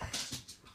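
A husky whimpers and yips in short, high, plaintive bursts, three or four quick whines close to the ear with no one speaking.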